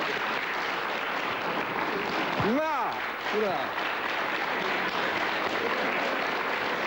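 A studio audience at a 1998 Polish comedy evening breaks into steady applause that fills the room, while a voice whoops briefly over the clapping.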